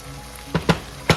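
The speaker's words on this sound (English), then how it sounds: "Can you hear that searing sound?" Pork menudo searing in a pan as its sauce reduces, a loud close sizzle with three quick bursts of crackling over a steady hiss, no talking.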